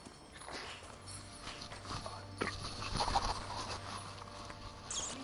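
Hooves of Roach, a horse in The Witcher video game, clip-clop at a steady walking pace, fairly faint beneath low ambient game sound with no talking.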